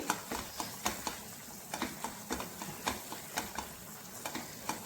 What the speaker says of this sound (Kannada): ಮಧ್ಯದಲ್ಲಿ ತುಪ್ಪವನ್ನು ಸೇರಿಸ್ತಾ ಮಗ್ತಾ ಇದ್ದೆ ನಾನು.